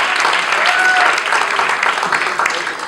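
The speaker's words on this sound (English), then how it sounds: "Give them a big round of applause." A large convention audience applauds volunteers being honored, dense and steady clapping that fills the room at close range throughout, with a faint whistle briefly cutting through.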